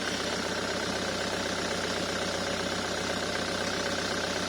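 A 2007 Jaguar X-Type diesel engine idles steadily with a fast, even clatter and a low drone, close and constant throughout with no talk; a failing injector is present.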